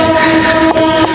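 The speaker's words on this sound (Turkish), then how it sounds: "tren geliyor abi" A train rumbles past loudly and close in Sri Lanka, a steady roar of wheels on rails with a sustained tonal hum, no voices.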